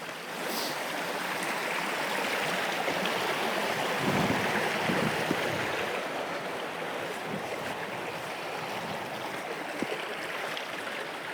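Water from a clear stream runs over a rocky bed in a steady, broad rushing and burbling, continuous and fairly close throughout, with no talking.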